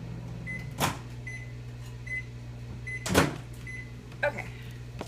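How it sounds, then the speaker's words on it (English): A microwave oven runs with a steady low hum while heating a capped bottle of raspberry-flavoured icing, with a couple of short knocks and clatters over it and a faint high tone in the background. "I'm going to cap it and I'm going to go microwave it again."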